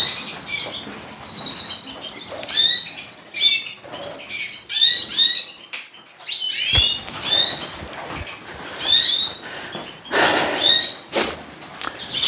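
Redpolls, siskins and mule finches in an aviary give a busy, continuous stream of high chirps and twitters, with occasional wing flutters and a brief thump, no talking.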